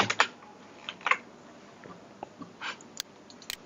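A computer keyboard clacks nearby in scattered, irregular keystrokes while code is typed, isolated taps separated by short pauses in a quiet room.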